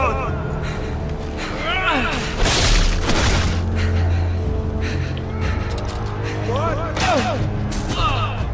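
Gunfire in a video game: repeated booming shots and crashes in quick bursts, close and loud, mixed with excited talk and gasps from players over a constant game backdrop.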